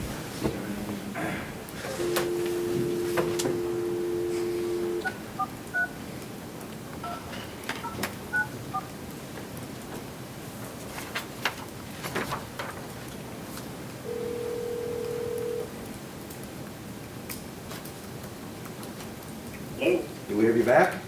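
Telephone dialing tones while a conference call is reconnected during a city commission meeting: two steady beeps, the first about three seconds long and the second shorter, with faint keypad tones and quiet room noise and speech in between.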